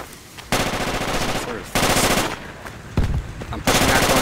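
Assault rifle fire in the video game Project Reality rattles out in four loud, sustained automatic bursts separated by short quiet gaps, close and harsh.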